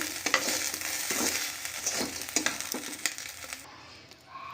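Mustard oil sizzling in a kadai as panch phoron and dried chilli go in for tempering, a close, loud crackling sizzle with sharp pops and stirring scrapes, which cuts off abruptly near the end.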